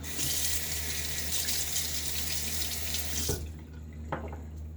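A tap runs steadily into a sink while rinsing during a wet shave, a loud close gushing stream that shuts off abruptly, leaving quiet with a few faint knocks and drips.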